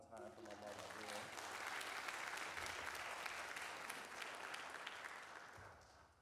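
Audience applause swells after a graduate recital, dense clapping building and holding steady before tapering off, with a voice speaking briefly at the start and end.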